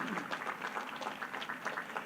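Applause for graduates' families and friends at a May commencement ceremony, a steady, dense crowd clapping that fills the whole moment with no voices on top.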